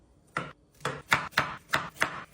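Six sharp knife strokes chopping carrots on a board for carrot cake, close and fairly loud, one single stroke followed by a steady rhythmic run of five.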